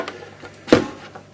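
A single firm mechanical snap as the back of a Kiev 6 medium format film camera is shut, close by, with faint handling noise before and after.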